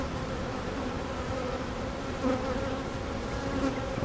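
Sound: honey bees buzzing at a hive

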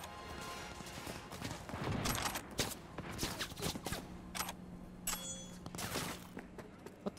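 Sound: gunfire in video game Cyberpunk 2077

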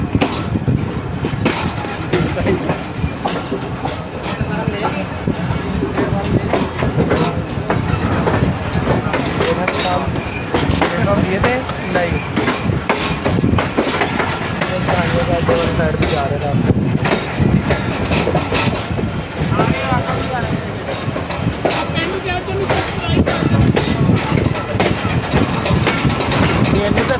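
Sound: Allama Iqbal Express train running on rails

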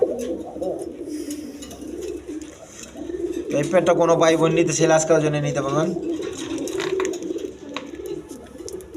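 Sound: Bombay pigeons cooing at farm

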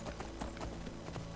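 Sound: horse hooves galloping in the video game Skyrim

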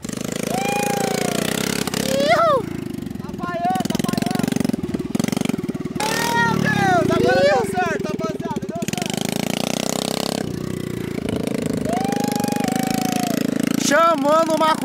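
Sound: mini quad bike engine accelerating

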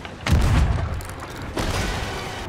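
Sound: cannon fire in Sea of Thieves video game

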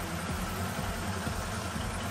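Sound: 1977 Honda CB750A Hondamatic motorcycle engine idling

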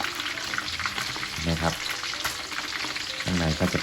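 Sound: tilapia fish deep frying in oil

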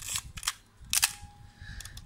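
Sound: film camera shutter firing at medium speed

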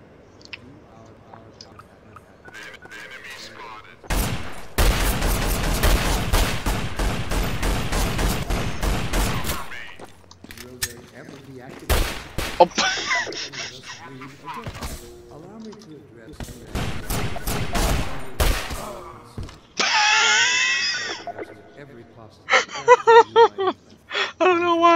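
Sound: suppressed rifle gunfire in Garry's Mod video game

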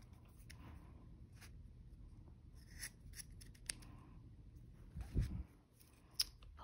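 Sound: scissors snipping yarn for paper plate craft

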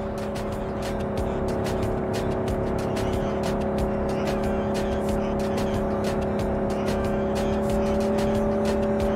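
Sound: car driving in Cyberpunk video game

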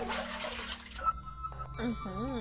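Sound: toilet flushing water in the video game Ib

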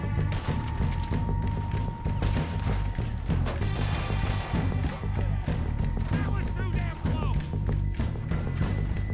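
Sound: gunfire in the video game Red Dead Redemption 2

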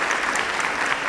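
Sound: audience applause at a signing ceremony

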